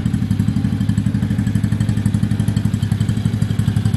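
A 125cc mini jeep engine idles close by after an oil change, a steady, rapid low thumping pulse with an even rhythm and no pauses.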